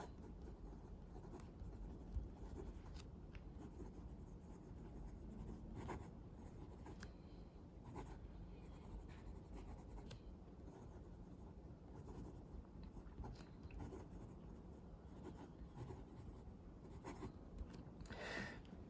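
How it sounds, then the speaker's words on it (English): A Hongdian C1 fountain pen with a fine, fairly wet nib writes on paper, giving a soft continuous scratch and scritch of strokes, close and quiet, with no talking. "Let's write with this pen."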